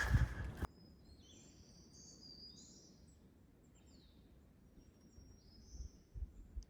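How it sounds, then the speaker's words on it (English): Black-throated green warblers sing in thin, high, buzzy phrases that come and go, faint and distant over a quiet hum along the Appalachian Trail, with a brief loud rustle at the start. "The only thing I can hear is those birds. I think they're black-throated green warblers."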